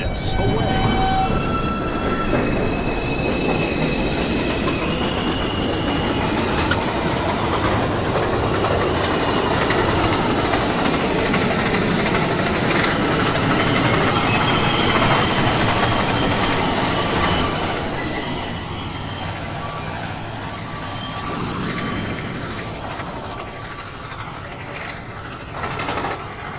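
A subway train in the NYC Subway Automatic game rolls along with loud rumbling, high wheel squeal and tonal motor whine, holding steady before easing down near the end.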